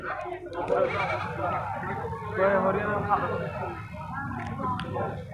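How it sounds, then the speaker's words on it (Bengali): Goats bleat at the Gas Line livestock market, repeated calls rising over a dense, continuous babble of crowd voices and trading chatter close by. "প্রচুর ছাগল আছে এই গ্যাস লাইন হাটে"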